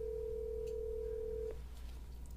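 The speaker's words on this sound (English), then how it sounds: "This phone's been ringing for like 20 minutes already." A phone rings during a livestream as one steady electronic tone, near and clear, sustained for about a second and a half before cutting off, leaving a low background hum.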